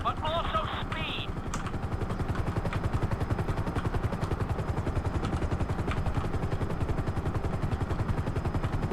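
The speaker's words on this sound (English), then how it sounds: "we'll see how well you handle the chopper" A helicopter in Grand Theft Auto V flies a flight school course, its rotor chopping in a fast, steady, loud rhythm throughout, with brief game voice and beeping sounds at the start.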